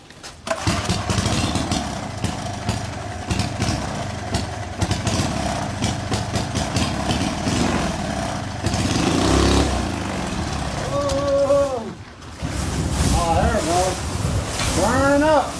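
A small engine with a see-through head runs while on fire, with a loud buzzing drone and a steady tone. It cuts out briefly, then returns revving unevenly, with people talking over it.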